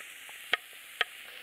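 Mushrooms sizzle in hazelnut-colored brown butter in a pan with a steady close hiss, punctuated by two crisp utensil clicks about half a second apart.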